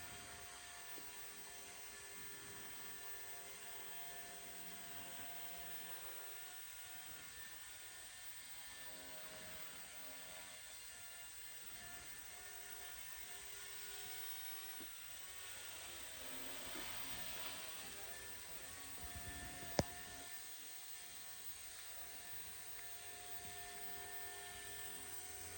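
A Blade Revolution 90 micro RC helicopter flying indoors gives a steady, close electric whine with constant rotor buzz throughout, a brief sharp click near the end.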